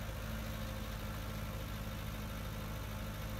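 A tractor engine running steadily at around 18 mph in Farming Simulator 19, a constant low droning hum with no breaks or shifts in pitch, alone and even in level.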